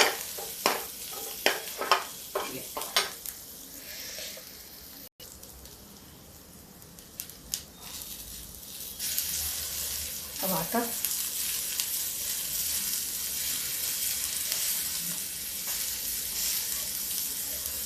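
Onions with asafoetida sizzle and fry in a pan, with scraping stirring clicks early on and a steady loud sizzle later, no talking.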